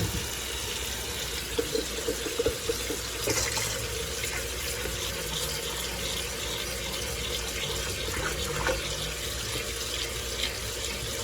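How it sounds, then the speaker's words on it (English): Tap water gushing into a bowl while potato slices are rinsed for Chinese fried potatoes, a steady, close hiss and splash that runs without a break for the whole stretch. "put new water back in."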